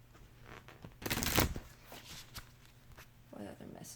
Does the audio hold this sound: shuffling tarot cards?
yes